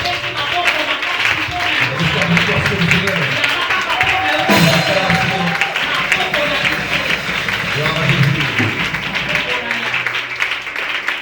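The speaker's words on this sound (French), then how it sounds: "Et nous acclamons fortement pour ta parole." A church congregation at a Shekinah Ministries service applauding loudly and continuously, a dense wash of clapping with voices mixed in throughout.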